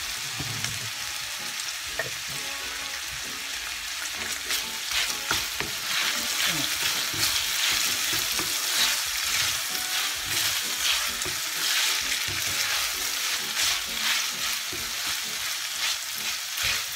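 Pork frying in a pan seasoned with salt and pepper, a close, continuous crackling sizzle with occasional stirring scrapes, growing slightly louder midway, no voices.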